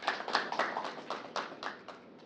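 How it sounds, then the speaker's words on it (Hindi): Applause at an office event honouring Atul ji, performer of the month, comes as a small, close group clapping, a brief patter of uneven claps that fades out quickly. "एक बारी अतुल जी के लिए तालियां हो जाए"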